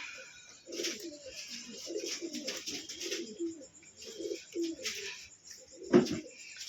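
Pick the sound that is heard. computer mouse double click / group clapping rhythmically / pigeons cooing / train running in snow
pigeons cooing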